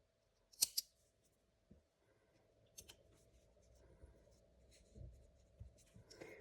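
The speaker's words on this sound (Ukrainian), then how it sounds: "і потім просто обрізаю нашу ниточку." Scissors snip crochet thread after a crocheted tulip is finished, two quick crisp cuts close by, then quiet handling noises against a faint background hum.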